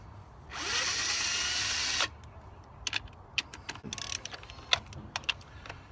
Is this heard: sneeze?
no